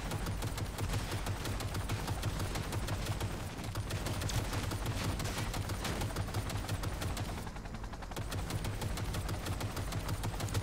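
Rapid gunfire from a powerful weapon in the video game Cyberpunk 2077, dense and continuous throughout with a brief lull near the end, alone with no talk.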